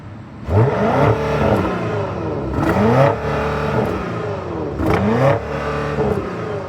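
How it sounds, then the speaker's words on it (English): A 2026 BMW X7 M60i SUV, parked, revs up three times while idling, each throttle blip rising in pitch then falling back to a rumbling exhaust idle, close and loud. "let's do some exhaust sound on this thing right now while we're sitting here. A little rev time"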